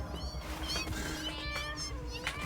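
Cats meow in the video game Satisfactory with arachnophobia mode on, which swaps the spider enemies for cats. Several overlapping, high, wavering calls come close together over a steady background of game noise.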